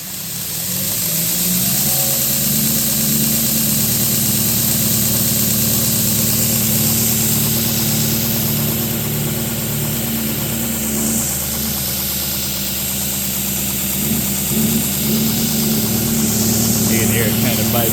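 A Torus 3x79 belt grinder runs steadily on a wooden table, a loud continuous motor drone with a buzzing, rattling vibration resonating through the tabletop, with a few faint knocks near the end.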